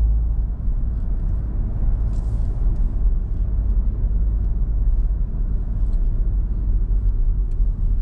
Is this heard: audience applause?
no